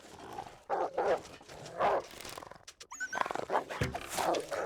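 Dog in the video game STALKER whimpers and yelps in short, close bursts of whining with brief pauses between them, heard alone without speech.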